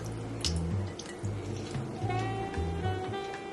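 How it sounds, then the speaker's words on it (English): Packing water drains out of a tofu package, a close, steady trickle and splash with small drips, with a soft background melody or hum running underneath. "this tofu comes packed with water, so we're just simply going to drain all this water out"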